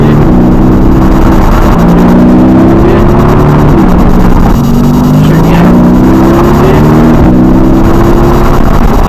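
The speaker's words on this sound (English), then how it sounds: "So I ended up driving a Porsche 911." A Porsche 911 sports car engine drones loudly and steadily from close by, its pitch climbing through repeated gear-like steps as the car drives on.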